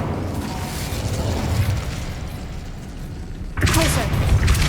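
Incendio fire spell cast in the Hogwarts Legacy video game, a loud sudden burst of roaring flame erupting over a steady background wash and continuing to the end.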